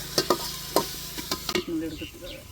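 Ginger and garlic sautéing in a pan for a village-style country chicken curry, with a few sharp stirring scrapes over a low sizzle that settles into a quieter fry, no talk.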